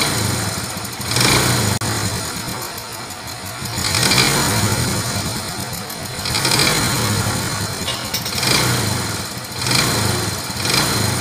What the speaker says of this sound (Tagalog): Pero kapag nirevolusyonan natin, doon maririnig nyo parang knocking. Yan, knocking piston.